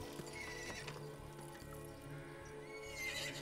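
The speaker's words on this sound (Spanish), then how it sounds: "He ahí un caballo blanco." A white horse neighs and whinnies while hooves clip-clop steadily nearby, set in a Western frontier scene with a low background murmur and no speech.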